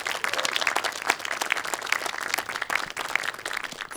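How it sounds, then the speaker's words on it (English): An audience at a film music awards event in Ghent applauds, a dense steady clatter of many hands clapping at moderate distance, sustained throughout without speech. "I would invite you all to give them a warm round of applause."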